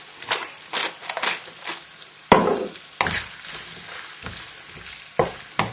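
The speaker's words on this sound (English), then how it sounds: "And we'll give it another stir and serve up." Chicken penne with mascarpone is stirred in a pan, with close, loud, irregular scraping and sticky sloshing strokes, a few sharp knocks against the pan, and a light sizzle underneath.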